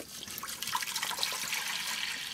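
Water pours into a copper pot in a short, continuous splashing trickle, close and fairly soft, with no voices.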